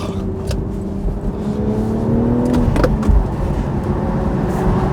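A manual six-cylinder, rear-wheel-drive BMW Z4 roadster driving, its engine a steady, loud hum that rises slightly in pitch before a brief shift-like dip, with road and wind noise throughout and no talking.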